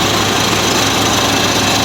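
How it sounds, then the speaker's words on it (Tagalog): A generally overhauled engine with nearly all parts replaced runs steadily nearby, giving a loud, continuous mechanical roar with a dense rattling texture and no talk over it. "So amo na yung makina ang general overhauling."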